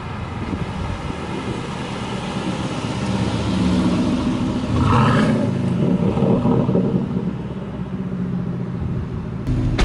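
A sports car's exhaust rumbles and gurgles at low speed, a steady deep roar close by that swells briefly in the middle and then settles back to an even burble.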